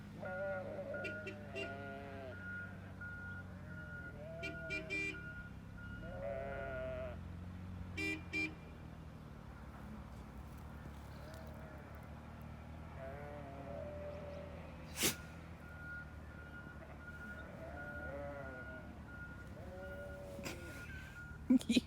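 Sheep on a dairy sheep farm in winter bleat repeatedly at a moderate distance, several separate calls spread across a stretch of quiet outdoor ambience, with a person talking at times and a brief sharp knock.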